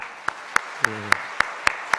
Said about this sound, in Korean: 우리 하나님께 영광의 박수 한번.